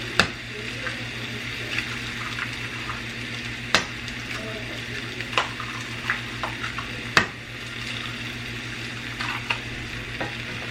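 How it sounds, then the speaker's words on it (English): Eggs frying and being stirred in a pan, with a steady sizzle broken by sharp scrapes and taps of a utensil against the pan. "And just stir these eggs up."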